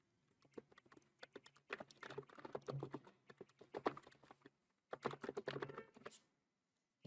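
Someone typing a comment on a computer keyboard, with rapid clusters of close, crisp key clicks in two main bursts separated by a short pause, in an otherwise quiet room.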